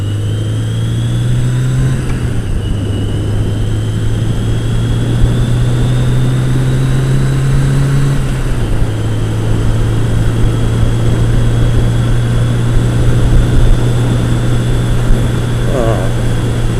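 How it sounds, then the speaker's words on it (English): A 650 cc cruiser motorcycle engine drones steadily while riding, its low hum dipping in pitch as gears shift about two and eight seconds in, with constant wind rush over it. "the 650 is the same size engine I've got on this little cruiser bike that I'm riding now"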